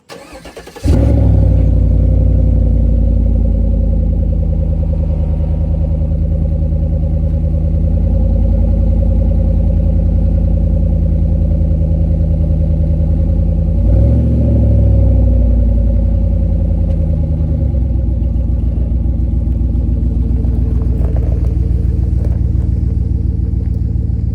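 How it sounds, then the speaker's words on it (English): A 2018 Chevrolet Tahoe engine with the muffler removed starts up and runs loudly for a long stretch, a deep throaty rumble with a brief rev partway through. "So with the muffler off, the truck sounds way, way better."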